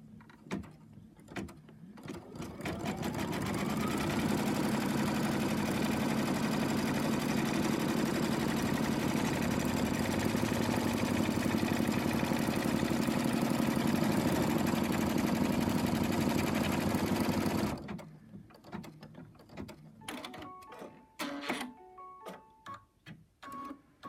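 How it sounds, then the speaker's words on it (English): A computerized embroidery machine stitches a design onto fabric held in a hoop, a steady mechanical whirring and rapid needle chatter that runs loud and continuous for about fourteen seconds, then stops, leaving quieter handling clicks. "I'm going to let the machine stitch this down."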